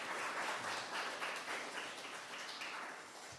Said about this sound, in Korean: 우리 옆에 있는 분들 박수로 환영하십니다.